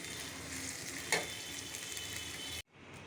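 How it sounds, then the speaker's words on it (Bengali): Beef tripe fries on a stove with a steady, close sizzle and crackle, interrupted by a brief clink near the middle before the sound cuts off abruptly. "এখন একটু পরে চুলায় থাকবে একটু ভাজা ভাজা হবে কারণ ভুড়ি যত ভাজা ভাজা হবে খেতে তত মজা লাগবে"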